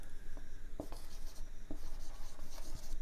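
Handwriting of a word during an English grammar lesson, faint scratchy strokes with a few sharp taps, steady through about three seconds over a noisy background, no talk.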